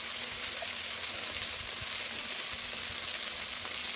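A steady, even sizzle of onion and cumin paste with turmeric frying in oil, a close and continuous crackling hiss with no voices over it.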